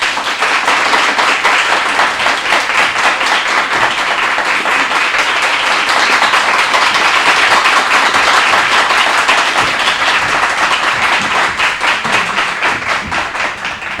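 Sustained crowd applause and clapping greets players from Lycée Georges et Antoine Isméry arriving at a school match against Lycée Jacques Roumain, steady and dense throughout, tapering slightly near the end.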